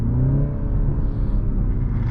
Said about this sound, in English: downshift a little bit.